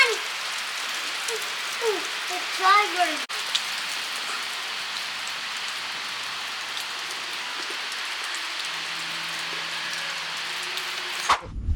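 Steady rain falls at a campsite, a constant broadband hiss running through the whole stretch with a few brief voices and a child's sounds early on, ending in a sharp thump.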